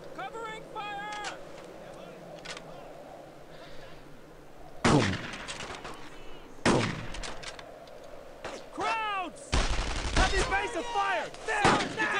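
Gunfire in the World War II shooter game Brothers In Arms: Road to Hill 30, with repeated loud rifle and machine-gun bursts in irregular clusters over battlefield ambience, broken by whistling tones and soldiers shouting.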